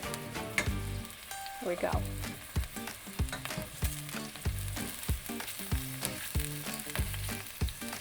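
Scallops sear loudly in a hot pan, a constant close sizzle broken by regular sharp pops and crackles, with a short spoken remark near the start.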